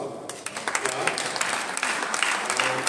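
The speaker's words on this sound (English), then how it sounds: "Give them a clap." Church congregation applauding at a live-streamed service, a dense burst of many hands clapping close by with some voices mixed in, steady for a few seconds.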